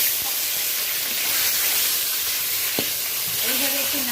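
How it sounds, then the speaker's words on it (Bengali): Koi fish frying in hot oil in a pan, a loud continuous hissing sizzle close up with a faint knock and a short voice near the end. "এই দেখুন মাছগুলো বেশ ভালো করে ভেজে নিলাম"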